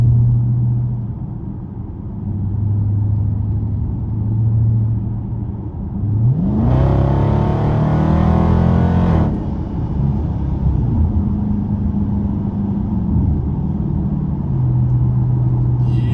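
A car with an automatic transmission, a pedal box and sport plus mode accelerates hard from a steady idle-like drone into a loud rising engine roar for a few seconds, then eases back to a low cruising rumble.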